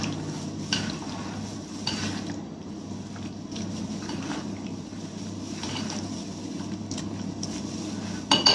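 Food with fresh coriander leaves being stirred and mixed in a pan, a steady scraping and clinking of a utensil against cookware with a low hum underneath, continuing through most of the stretch.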